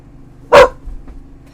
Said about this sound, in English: Sorry, my puppy's barking.